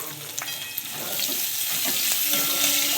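Chopped onions sizzling and frying in hot oil in a pan after browned garlic, with steady crackling spatter and a light stirring scrape, close and continuous.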